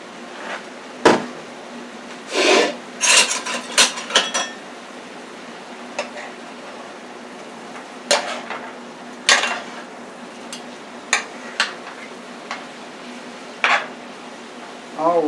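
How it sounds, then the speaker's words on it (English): Peppers and onions go back into a frying pan with garlic steak, bringing scattered clinks and scrapes of utensils against the pan over a faint sizzle, with short bursts of activity spaced across the clip. "We're going to add our peppers and onions back in the frying pan."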